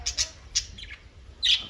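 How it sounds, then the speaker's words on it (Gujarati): Pet pigeons and sparrows call nearby in several short, sharp squawks and chirps separated by brief pauses. "આપણે પાસે ચકલા છે અને કબૂતરી છે આપણી પાસે."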